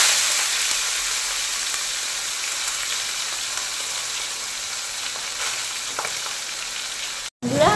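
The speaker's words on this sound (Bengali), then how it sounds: "এবারে আমি মাছের মাথাটা দিয়ে দিচ্ছি এই তেলের মধ্যে" A katla fish head fries in hot mustard oil in a steel pan, giving a loud, steady, close sizzle throughout. The sound cuts out for a moment near the end.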